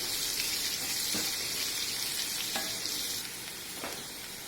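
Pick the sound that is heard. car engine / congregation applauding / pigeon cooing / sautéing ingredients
sautéing ingredients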